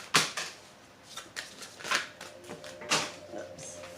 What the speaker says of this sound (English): Oops, dropping cards all over the floor.